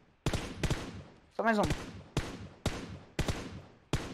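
Sharp gunshots in the mobile battle royale game PUBG Mobile crack out one at a time in a slow, uneven rhythm, about six in all, close and loud, with a brief voice speaking between them.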